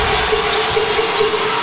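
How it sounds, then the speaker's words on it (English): Sellout basketball crowd at Madison Square Garden in New York roars steadily throughout a Knicks game against the Cavaliers, a dense continuous wall of cheering with swelling bursts, loud and close. "Another sellout crowd here at the Garden"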